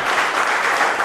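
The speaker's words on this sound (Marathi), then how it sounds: "परंतु तो सन्मान होण्याच्या आधी जोरदार टाळ्या" Loud, dense applause from an audience at an awards ceremony, a continuous close wash of clapping hands filling the whole short moment.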